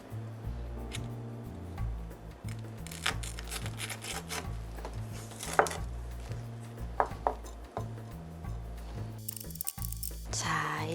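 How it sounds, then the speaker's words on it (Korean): A knife minces a red chili pepper for a Korean seasoning sauce, producing quick, light taps against a cutting board at an irregular pace over steady background music. "홍고추를 하나를 다져 넣어 줄 거예요."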